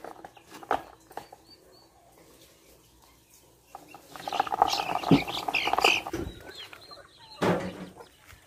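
A flock of helmeted guineafowl (angolistas) at a bird sanctuary, calling in a burst of harsh, scratchy chatter that rises midway and surges again near the end after quieter scattered calls.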